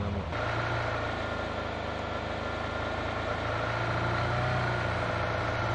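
A car engine in the PUBG Mobile battle royale game runs steadily as the vehicle chases the players, a continuous low idling rumble close by with no talk.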